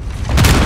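A grenade goes off in the Call of Duty: Modern Warfare 3 campaign as a loud, close, deep boom that swells and keeps rumbling.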